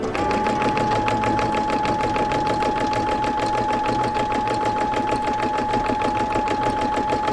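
A sewing machine doing free-motion embroidery runs steadily at a fast, even stitching pace for several seconds, with a constant mechanical whir and a faint high hum.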